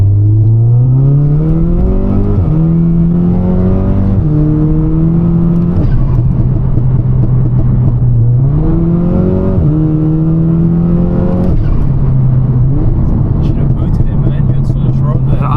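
An Audi S3 accelerates hard along a country lane, its engine rising in pitch through repeated gear changes with loud, close revving from inside the car, while people talk over it.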